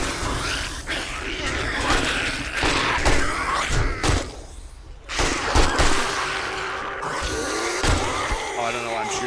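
Gunfire in 7 Days to Die, Darkness Falls mod, sounds as a dense spread of sharp shots and thuds across the whole stretch, mixed with clanking mechanisms and talking over the top.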